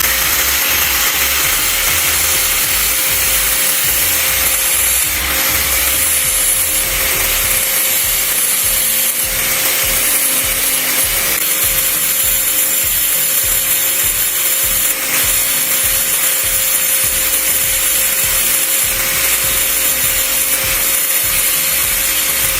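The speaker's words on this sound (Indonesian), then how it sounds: "kalian langsung saja untuk menggerinda bagian ujungnya ya" Grinder sharpening the tip of a piece to a fine point, giving a loud, continuous abrasive whine and rasp that runs close and steady throughout, with no one talking.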